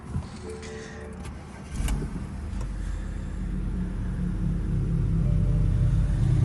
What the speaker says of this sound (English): let me show you actually how, guys, the car is actually sounding.